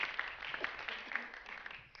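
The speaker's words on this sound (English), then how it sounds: "we always clap for Warren" Brief, thin applause for Warren Grover, co-founder, at an evening community program in Newark, a scattering of claps from a small audience heard at a distance, steady and fairly faint.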